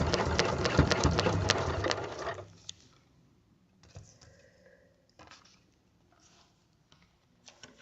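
A sewing machine stitches a log cabin quilt block in a fast, steady, close-up whir for about two seconds, then stops, followed by quiet handling noises and a few soft clicks.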